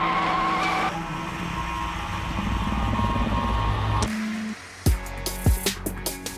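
A Ford Mustang GT500 muscle car roars and skids, its engine note holding steady for several seconds before sharp tire squeals and bursts of revving break in near the end, loud and close with no talk.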